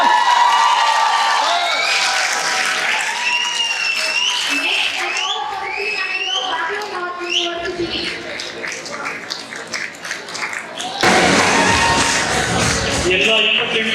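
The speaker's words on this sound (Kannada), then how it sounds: "ಜೋರಾದ ಚಪ್ಪಾಳೆಯಲ್ಲಿದೆ" A large crowd claps and cheers at a university youth festival valedictory ceremony. Loud applause and whoops fill the hall, fading midway under voices and music, then surging again near the end.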